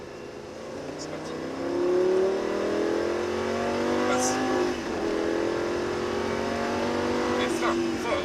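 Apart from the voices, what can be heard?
Lamborghini Gallardo LP-560 accelerating on the Mettet circuit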